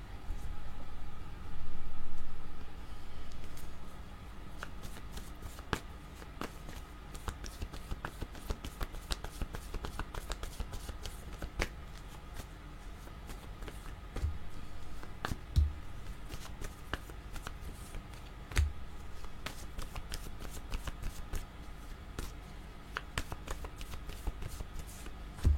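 A deck of cards is shuffled and handled for a long stretch, with a loud riffle burst near the start followed by steady soft flicking, sliding and tapping of cards close by, with no talking.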